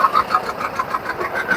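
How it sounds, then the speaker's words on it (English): A John Deere 830 two-cylinder diesel tractor from about 1959 putters nearby in a fall harvest parade, its engine giving a rapid, even thumping pulse over a brief stretch. "It's John Deere 830 diesel."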